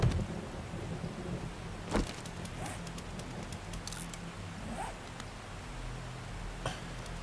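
Rain falls steadily in the survival video game 7 Days to Die, a constant hiss broken by sharp thunder cracks and rumbles at irregular intervals, the loudest near the start and around two seconds in.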